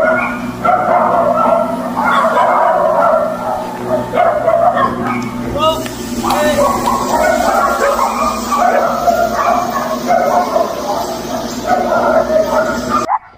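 Several dogs bark and yip steadily at a dog breeding base, a busy layered chorus close by, with a person talking over it throughout.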